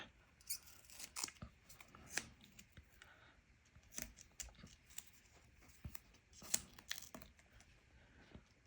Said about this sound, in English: So let me just cut some of these off.